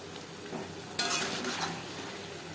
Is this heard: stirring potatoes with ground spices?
yes